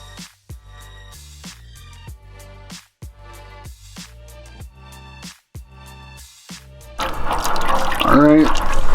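Coolant drains from a Volkswagen Jetta cooling system, first as evenly spaced single drips, then as a sudden, louder gushing and gurgling pour near the end once the reservoir is opened.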